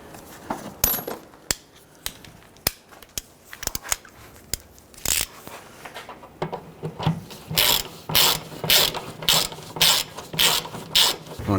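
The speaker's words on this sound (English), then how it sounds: "we're going to use our socket and we're just going to thread it in a few more threads to secure it into place." A socket ratchet threads a bolt into a rear upper control arm bushing on a 1999-2004 Jeep Grand Cherokee, starting with scattered close clicks and then settling into rapid, rhythmic bursts of loud ratcheting, with no talking.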